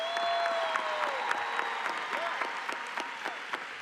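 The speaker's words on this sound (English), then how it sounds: "I don't know if you guys are clapping" A crowd at a Miramar High School commencement at Nova Southeastern University claps steadily, a dense wash of applause with a few cheers and whistles rising over it.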